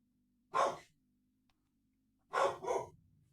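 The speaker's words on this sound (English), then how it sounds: "My dog's barking." A pet dog barks indoors in a quiet room: one single bark, a pause, then a quick double bark, each fairly close and distinct with no talking over them.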